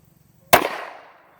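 A single sharp report from a Beretta Puma .32 pistol fired outdoors, a loud crack followed by a short decaying echo, standing alone against near silence.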